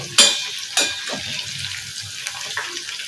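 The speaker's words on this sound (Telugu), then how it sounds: "గ్రీన్ కలర్ పోకుండా కొంచెం ఇలా ఫ్రై అయితే చాలు, సరిపోయింది అనమాట." Green chillies coated for bajji fry in hot oil with a close, bubbling sizzle, opened by two sharp splashy bursts and followed by a softer steady crackle.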